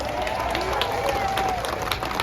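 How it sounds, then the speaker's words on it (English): Outdoor reparations rally crowd in Washington, D.C., clapping and cheering together, a dense continuous wash of applause with a raised voice carrying over it. "Clap it up for yourselves"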